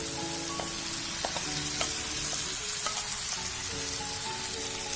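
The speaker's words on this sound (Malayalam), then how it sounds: "ഇനി നേരത്തെ മാരിനേറ്റ് ചെയ്ത് വെച്ചിരിക്കുന്ന ചിക്കനും കൂടി ഇതിനകത്തേക്ക് ഇട്ട് കൊടുക്കാം." Marinated chicken frying in a pan for a spicy Chettinadu-style South Indian chicken curry, giving a steady, close sizzle with scattered light clicks and pops of stirring throughout.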